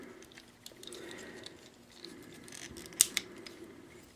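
A plastic Transformers Cybertron Deluxe Optimus Primal figure is being transformed, giving soft scraping, then two crisp plastic clicks in quick succession near the end, close and alone.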